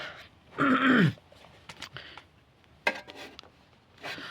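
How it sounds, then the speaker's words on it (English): Someone with a slight tickly cough clears their throat close by, with one loud rasping burst followed by a few quieter short grunting clears and pauses. "I've got a tiny little bit of a tickly cough today."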